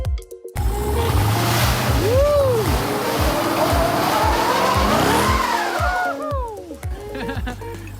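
A 2018 Jeep Trackhawk, rebuilt after a wreck and set to rear-wheel drive, revs hard with rising and falling engine howls and squealing tires, loud and close, over wind noise.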